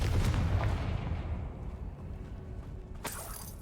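A Confringo fire spell blast in Hogwarts Legacy, a loud booming burst at the start that fades into a rumbling tail, with a second sharp crack near the end.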